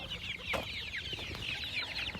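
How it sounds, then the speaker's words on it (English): A chicken clucks on a small farm where Dexter cattle are mob grazed, giving a steady run of soft, fairly close chatter with one sharper call. "Silly bird."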